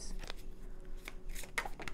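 Tarot cards being shuffled and drawn from the deck, a few soft crisp riffles and slides at close range, fairly quiet, with no talking.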